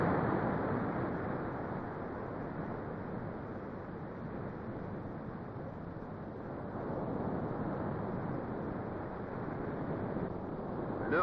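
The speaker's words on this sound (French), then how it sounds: "Le vent pousse le sable en longue traînée." Steady wind blowing over coastal sand dunes rushes past in a continuous low roar, buffeting the microphone without letup, with no voices.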